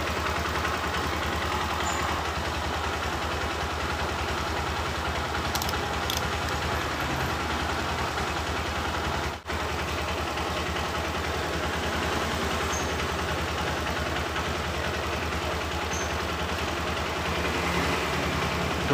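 A steady, low idle from a Honda Verza motorcycle engine rumbles continuously at moderate level, unchanging throughout, with a brief click partway through.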